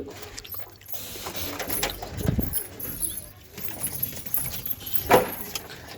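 Pigeons in a home loft with a newly added female bird, giving soft intermittent cooing and fluttering amid light metallic rattles and shuffling, fairly close, with no talking.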